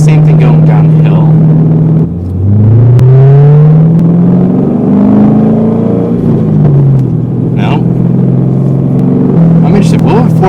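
A Corvette C6 with a skip-shift bypass revs and pulls hard downhill, its engine note rising in pitch, dropping as it shifts, then climbing again. The sound is loud and close, as if heard from inside the car.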